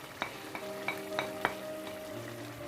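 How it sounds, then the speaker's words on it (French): Gizzards sautéing in a pan sizzle steadily as onion goes in, with several distinct clinks and scrapes of a utensil against the pan over the bubbling fry. "Je rajoute mon oignon."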